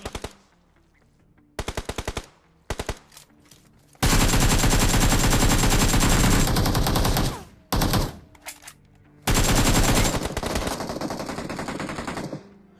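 Automatic gunfire in Battlegrounds Mobile India: short bursts of rapid machine-gun shots, then two long, loud, sustained sprays of fire separated by brief gaps and quieter single bursts.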